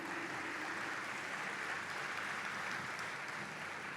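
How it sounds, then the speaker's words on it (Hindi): Audience applause at a stage music evening, a steady dense wash of clapping that stays even and fairly loud for the whole stretch, with no voices over it. "ज़ोरदार तालियों के साथ हम आपका स्वागत करते हैं।"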